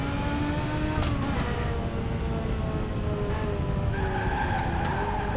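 A race car in the Victory: The Age of Racing video game skids as it runs over a curb. A continuous engine whine with shifting pitch runs under it, and a sharper tire squeal rises near the end.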